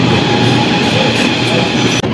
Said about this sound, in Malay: ini adalah LRT laluan Sentul Timur Seri Petaling Line anda boleh naik dekat sini menuju ke Awan Besar Station